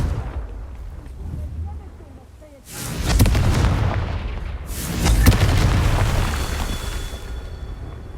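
Blasting-spell explosions from the Hogwarts Legacy video game: two heavy booming blasts, each with a long rumbling tail. Quieter game ambience comes before them.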